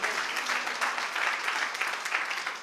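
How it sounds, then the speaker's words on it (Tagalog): A church congregation claps in steady, sustained applause, a dense wash of many hands filling the room without a break. "Sige, palakpak talaga para madinig ni Jesus."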